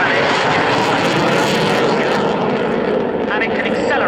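MiG-29 fighter jet engines roaring loud and steady during an air day display, a continuous broadband jet roar with shifting tone, with a commentator's voice faintly beneath.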